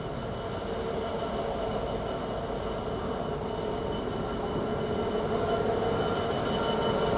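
A Class 66 DB Cargo diesel freight train passes through a station, a loud steady rumble of engine and rolling wagons with faint wheel squeal, continuous and close throughout without any talk.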